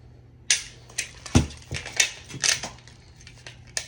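Dry firing an unloaded pistol gives a series of sharp, close mechanical clicks and snaps from the trigger pull and slide reset, spaced irregularly in a quiet room.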